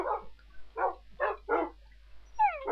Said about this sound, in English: here's all my dogs